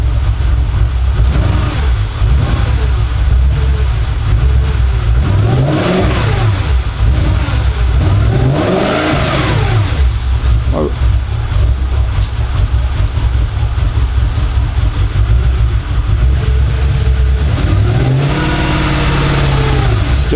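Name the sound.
Audi car engine misfiring while revving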